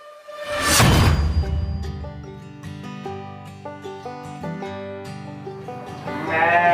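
Sheep bleat repeatedly in an Indonesian breeder's pen, one loud close bleat rising early, then a mix of overlapping calls and harmonic cries from the flock continuing throughout, with another strong bleat near the end.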